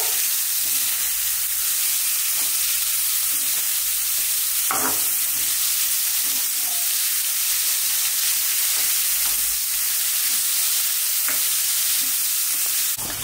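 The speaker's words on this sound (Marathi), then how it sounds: "हे बघा लो फ्लेम ठेवून असं छानपैकी भाजून घ्यायचं." Thinly sliced cabbage roasting over a low flame, a dense continuous sizzle broken by occasional spatula scrapes and stirs, close and fairly loud, with no talk.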